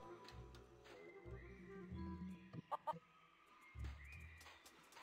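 Chickens cluck in The Curse of Monkey Island, a series of soft, low, rhythmic clucks with a few sharper calls. Faint game music plays underneath.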